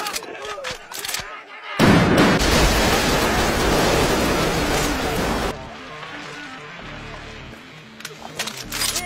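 Anime gunfire bursts loud and close: a few sharp cracks, then a long roaring barrage of shots blending into rumbling noise, ending with scattered lighter impacts and clatter.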